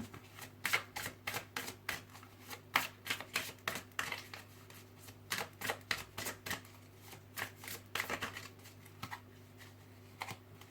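Oracle cards being shuffled and spread out, a steady run of crisp papery riffles and flicks close by, with brief pauses between bursts over a low steady hum and no talk.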